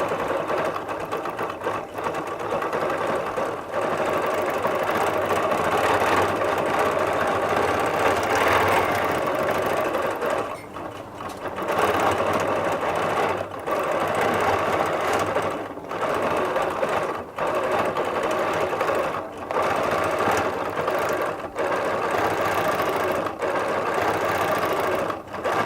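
A Q16 sewing machine stitching a quilt, running as a steady close mechanical whir with rapid needle chatter that stops briefly a few times and restarts, with no talking.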